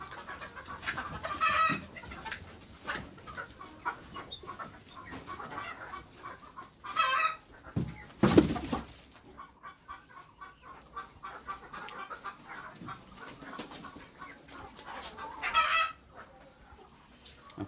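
Local desi laying hens on a small farm cluck and squawk repeatedly, with a few louder bursts and a rooster-like call, near and alone without talk.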